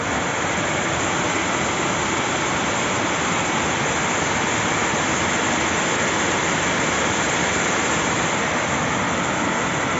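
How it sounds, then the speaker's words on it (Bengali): Heavy rain pours down in a steady, dense, loud roar that holds without a break, with no voices over it. "প্রচণ্ড বৃষ্টি হচ্ছে, প্রচণ্ড।"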